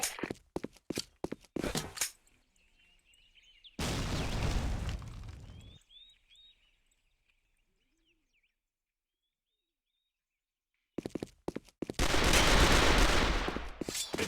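Sharp bursts of gunfire and a broad blast from a grenade explosion in a team-based shooter video game, arriving in loud clusters separated by quiet gaps with faint chirping in between.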